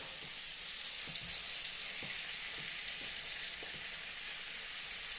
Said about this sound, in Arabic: كيما تشوفوا طابلنا الفلفل والطماطم كالعادة نهبطوهم